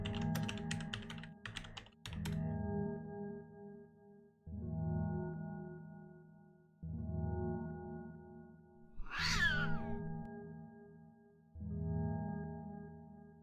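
A screaming cat sound effect plays during a livestream: repeated loud, tonal yowling cat cries in bursts, one sharp rising screech in the middle, with brief keyboard clicks at the start.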